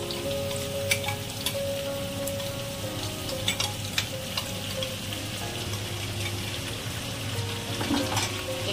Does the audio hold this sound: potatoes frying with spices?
yes